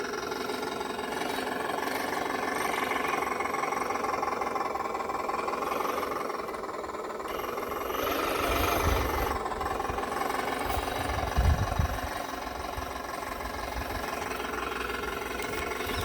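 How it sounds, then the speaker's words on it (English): A simulated diesel engine from a sound module on an RC crawler rumbles steadily at idle, a close, continuous throbbing with a slight rev swell midway and a brief knock near the end. "How about some diesel engine sounds? I have it on switch."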